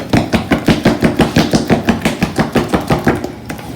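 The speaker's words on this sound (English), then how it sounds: "Now we want to stir that oil in with this cornbread mixture." A spoon stirs oil into cornbread batter in a bowl, making steady, rhythmic strokes about four per second, loud and close, with no talking.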